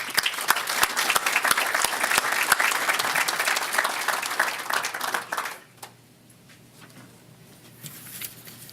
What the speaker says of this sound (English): let's give Judge Webb a round of applause as he comes up.